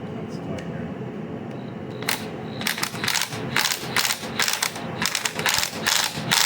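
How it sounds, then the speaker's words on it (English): A DeWalt impact gun removes a broken bolt in a shop, making a series of close, loud, rattling hammer bursts with short gaps between them, following a quieter stretch of background noise. Someone talks near the start. "2 for 2 on the DeWalt impact gun"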